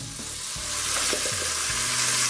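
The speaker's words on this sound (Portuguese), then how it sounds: "Depois de derretida a margarina, despeje aquela massa do liquidificador" Cassava batter from a blender poured into melted margarine in a pan for cassava beijinho, giving a steady broadband sizzle and frying hiss throughout, with a few soft stirring knocks underneath and no talking.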